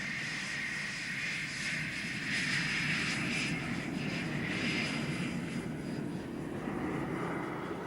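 Allied combat aircraft over eastern Saudi Arabia during the Gulf War, a steady broad engine roar that swells slightly in the middle, distant and continuous with no voices.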